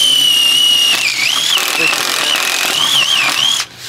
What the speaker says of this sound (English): we have our drill and we're just gonna drill inside here